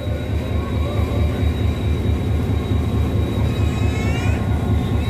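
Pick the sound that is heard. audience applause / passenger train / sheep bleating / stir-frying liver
passenger train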